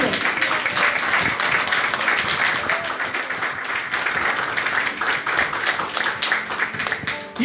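A church congregation applauds for Jesus Christ, loud continuous clapping from many hands filling the room, with scattered sharper claps standing out and a few faint voices mixed in.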